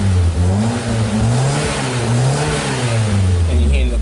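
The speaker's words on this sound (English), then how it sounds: "you hear the car cranking over and it's actually accelerating" A Nissan Sunny with a swapped engine and intermittent crank-no-start fault runs and revs up and down repeatedly, its mid-pitched engine note rising and falling close by in a steady loud wave.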